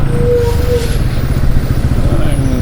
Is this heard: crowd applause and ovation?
no